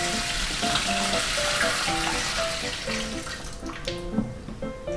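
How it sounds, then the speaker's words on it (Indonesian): Water pours steadily into a snake enclosure being set up for an albino rainbow water snake, making a continuous close splashing rush that holds at a fairly even level throughout. "Oke, kita langsung tuang dulu airnya."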